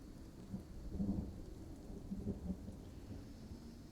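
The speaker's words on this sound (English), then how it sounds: "Lightning strikes." A stormy forest scene with low thunder rolling under steady rain. Deep rumbles swell twice, around the first and second seconds, over a constant patter of falling drops.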